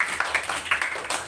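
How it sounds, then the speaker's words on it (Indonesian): Light audience clapping from a school OSIS candidate podcast session, a short patter of scattered claps at moderate distance. "Itu tepuk tangan dulu untuk sesi yang kedua ini."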